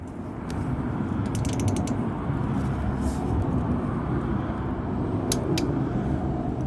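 A torque wrench ratcheting and clicking on a Honda Navi during an oil change, with bursts of quick metallic ticks over a dense, steady background rumble, close up.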